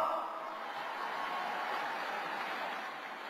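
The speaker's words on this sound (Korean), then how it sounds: "수고해주신 기호 1번 권영세 후보께 힘찬 격려의 박수를 부탁드리겠습니다" Party members at a Grand National Party leadership convention applaud after candidate Kwon Young-se, ballot number one, finishes his speech: a steady, even wash of crowd clapping from a large hall, sustained throughout without a clear break.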